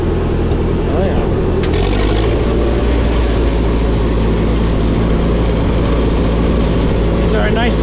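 A 1951 Ford 8N tractor engine runs steadily while the little tractor is driven in third gear, a loud, constant low mechanical drone with faint talk mixed in.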